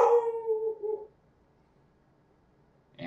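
A pet dog lets out a rising, tonal howl for about a second, then near silence follows before a faint sound returns at the very end; no one speaks.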